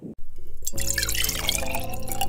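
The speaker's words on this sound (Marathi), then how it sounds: "अर्धा तांबा पाणी टाकलेलं आहे।" Water poured from a copper vessel into a cooking pot to boil chana dal (split chickpeas) in a home kitchen, a steady close splashing stream with light dripping and a low hum underneath.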